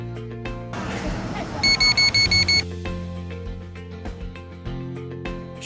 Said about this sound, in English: 1 beep for low speed, 2 beeps for the middle speed gear, 3 beeps for high speed gears